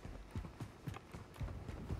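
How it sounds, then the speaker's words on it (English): Rapid footsteps in the video game Warzone 2.0 patter in a quick, steady rhythm, moderately loud against game background noise, with no speech. "I keep hearing footsteps."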